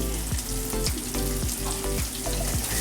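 Masala paste sizzling and bubbling in oil for paneer Kolhapuri, a dense close crackle with rhythmic stirring strokes repeating about every half second.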